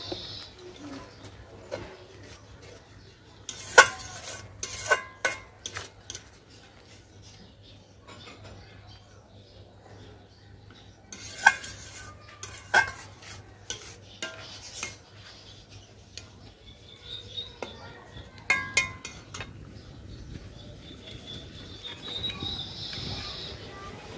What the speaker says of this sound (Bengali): সব মশলা ভালোভাবে কষিয়ে নিছি।